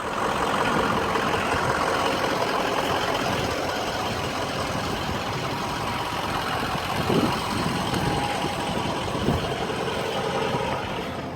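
A 2004 truck with a 6.0 liter engine that once pulled an RV idles steadily, a loud, continuous low rumble with no talk over it.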